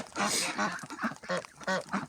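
Several ducks quack in short, repeated bursts close by, a lively overlapping chorus of honking calls.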